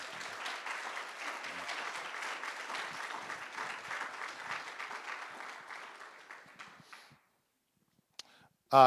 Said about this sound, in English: So please give them a round of applause, a huge round of applause.